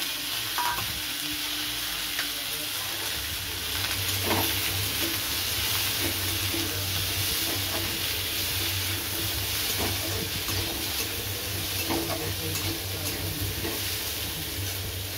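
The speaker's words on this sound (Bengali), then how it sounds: "এর মধ্যে দিয়ে দেবো পেঁয়াজ, টমেটো, কাঁচা লঙ্কা, ক্যাপসিকাম সব আমি একসঙ্গে দিয়ে দিলাম" Onion, tomato, green chilli and capsicum fry together in a little leftover oil in a pan, giving a continuous close sizzle and hiss with occasional stirring scrapes throughout.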